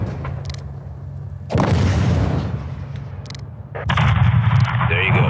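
Gunfire and explosions in Call of Duty Modern Warfare 2 come as loud booming blasts and bursts of shots, with a heavy explosion rolling out midway and renewed firing near the end over a constant low rumble.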